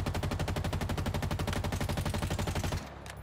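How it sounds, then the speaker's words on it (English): Rapid automatic gunfire from Halo Infinite hammers out in a steady, fast stream of loud, close shots for nearly three seconds, then cuts off into a faint tail. "keep shooting at it, I guess."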